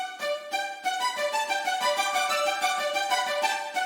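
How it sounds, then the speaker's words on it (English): Layered spiccato strings in a produced beat play a brisk run of short, evenly pulsed bowed notes, bright and continuous with no voices. "I just layered this with another string, as I said, and it sounds like this"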